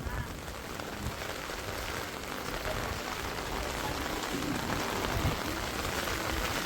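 Heavy monsoon rain pours down in a Surat housing society, a dense, steady hiss of drops hitting surfaces, close and continuous with no talk.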